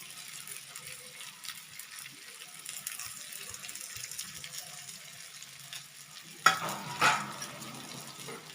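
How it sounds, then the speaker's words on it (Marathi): Ridge gourd and spices being stir-fried in a pan: a steady low sizzle with soft stirring, then two louder scraping strokes of the spoon near the end. "आता आपण हलक्या हातीने परतून घेणार आहोत"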